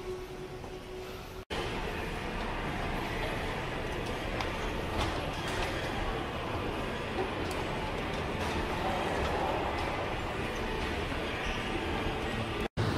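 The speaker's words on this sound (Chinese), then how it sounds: "它是一个火车，去 Baltimore 的火车。" A MARC commuter train bound for Baltimore rumbles steadily and loudly for about thirteen seconds, a continuous broadband roar of rolling rail cars with faint rattles, briefly cut at the start and near the end.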